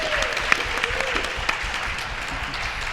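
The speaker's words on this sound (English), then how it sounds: "Let's give her a round of applause." Steady round of audience applause at a conference panel introduction, even and sustained throughout, with a few sharper claps standing out.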